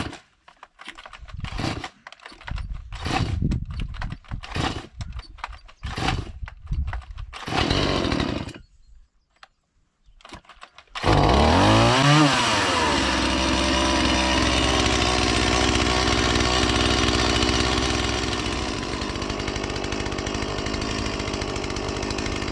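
A Dnipro-M petrol chainsaw starts and runs loudly, revving hard before settling into a steady, high-pitched two-stroke drone, after a stretch of knocking and handling noises.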